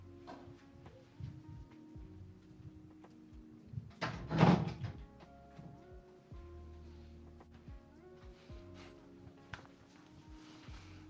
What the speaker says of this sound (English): I'm going to close my door real fast.